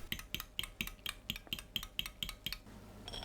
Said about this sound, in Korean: 계란에 국간장 1큰술, 고운 소금 반큰술, 물 140ml 넣고 섞어줍니다.